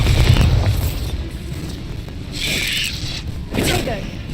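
Bombarda spell explosions in Hogwarts Legacy sound as deep booms and bursts, a heavy hit at the start, then two more blasts with crackling debris, with game voices in between.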